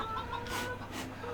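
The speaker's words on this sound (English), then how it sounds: "Over here I've currently got about 20 chickens" Soft, brief clucks of chickens in the video game Farming Simulator 15, with a couple of airy bursts of noise, fairly quiet and a little distant.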